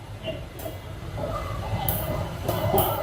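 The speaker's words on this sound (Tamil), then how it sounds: "இந்த ட்ரெயின் எடுத்தாச்சுங்க." A passenger train pulls out of Palani railway station with a steady low rumble of wheels and carriages, broken by a few sharp hissing bursts and faint squeals, close by and without talk.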